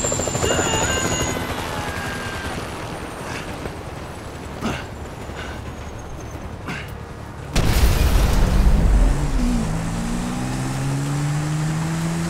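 A helicopter flies in the game GTA V, its steady thumping rotor drone loud and continuous throughout, with brief impacts and a sudden louder rumble partway through, joined by rising engine whines.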